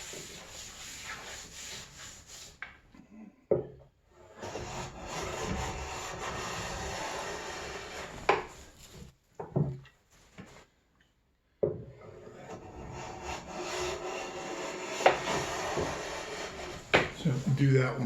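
Hand plane pulling shavings off a white cedar countertop, a series of rubbing strokes separated by brief pauses, close up, with someone talking over parts of it.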